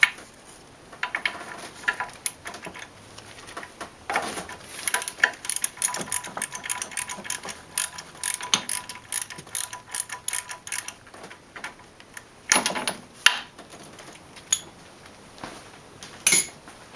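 A ratchet turns a 32mm socket on the camshaft of a BMW E36/E34 engine, clicking in irregular bursts with pauses and light metallic clinks. The sound is close, with no voices.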